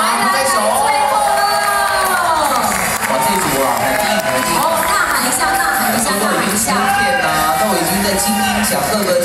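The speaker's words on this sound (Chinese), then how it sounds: "帮帮忙，拍手。" An audience at a Taiwanese original pop music competition award ceremony claps, cheers and shouts loudly and continuously, with excited whoops and a voice over the crowd.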